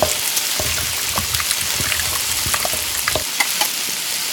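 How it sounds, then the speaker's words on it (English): Clams stir-fried in a small pan with seasonings and soy sauce, giving a steady close sizzle with frequent light clicks and scrapes from stirring throughout. "Continue to stir in the pan."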